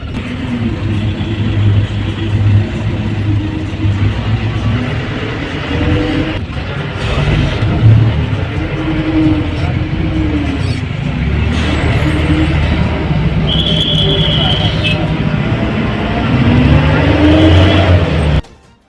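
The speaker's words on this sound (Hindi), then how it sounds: "ट्रैफिक फिर भी ऐसा ही है।" Dense road traffic with car engines idling and creeping forward, a continuous broadband rumble of vehicles nearby with occasional revving and a short horn-like tone, steady throughout with no talk.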